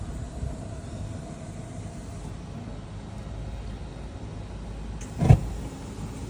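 A gas burner lights from its pilot flame with one sudden, short whoosh near the end, after a steady low background hum.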